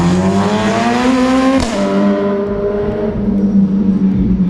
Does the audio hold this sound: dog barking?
no